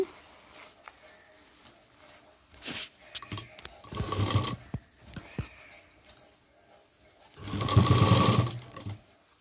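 A household sewing machine stitches a homemade cloth tiffin bag in two separate bursts of running, with quieter gaps of fabric handling and faint mechanical clicks between them, heard up close.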